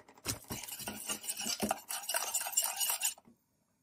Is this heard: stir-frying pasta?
yes